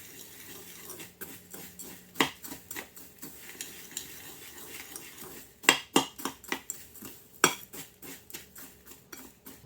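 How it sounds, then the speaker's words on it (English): A spoon stirs Scotch egg coating in a bowl, producing bursts of irregular metallic clinks and scrapes, with a short quiet pause before the stirring picks up again. "we grab a spoon and we're going to mix that up"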